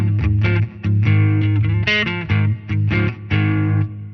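Electric guitar through a BIAS amp model with a reverb pedal and tube driver switched off, playing a short chord-and-note phrase with sustained tones and a reverb tail, no talking.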